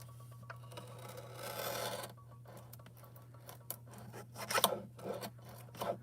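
Scissors trimming the sticky edge of clear laminating film, irregular snips and crinkling rustles, close and fairly quiet over a low steady hum, with no talk.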